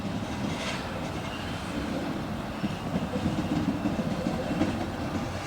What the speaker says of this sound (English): this train is backing up across this street here